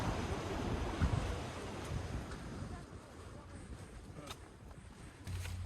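Sea waves wash onto the white sand of Oehongchi Beach on the Korean coast. The surf is faint and distant, swelling and easing softly under light wind.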